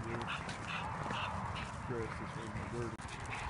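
A dog barks and yips in short bursts during a walk outdoors, a few sharp calls standing out faintly over steady street noise and nearby chatter.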